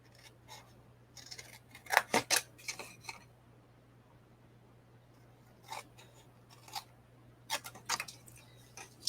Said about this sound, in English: It's just as easy to use scissors and cut along this score line up to that cut line.